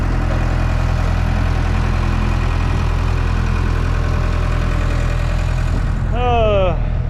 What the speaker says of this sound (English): Everybody needs a skid steer.